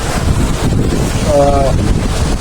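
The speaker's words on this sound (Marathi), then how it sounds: "पाऊस बघू शकता तुम्ही एकदम तुफान पाऊस आहे" Loud, steady broadband roar of torrential rain in Virar, constant throughout with a brief faint tonal hum in the middle.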